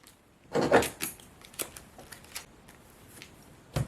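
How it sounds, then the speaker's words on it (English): A deck of Marvel Champions LCG game cards is shuffled close by: one dense riffling burst, then a few light taps and shuffles, with no talk. "So I'm going to shuffle up the deck."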